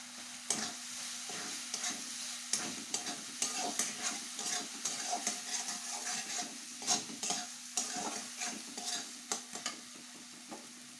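Mustard paste with panch phoron spices being stir-fried in a pan, a soft sizzle under repeated scraping strokes of a spatula, irregular and close, with no voices.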